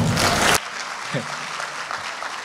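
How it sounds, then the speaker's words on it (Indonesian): Brief burst of audience applause at a talk, loud and dense for about half a second, then cutting off into quiet room tone. "Tepuk tangan dulu."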